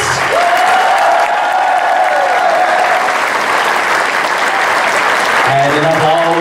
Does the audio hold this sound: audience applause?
yes